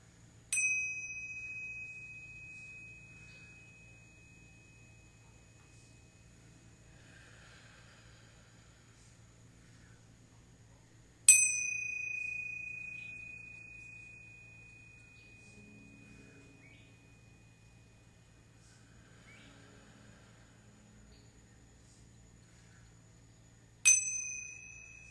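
A meditation chime rings three times at long, even intervals, each strike clear and bright and then fading slowly into near silence before the next.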